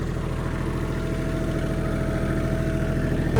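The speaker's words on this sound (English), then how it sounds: "now he gets to watch the tractor." A tractor engine idles steadily nearby, a continuous low rumble with an even, throbbing pulse and no speech over it.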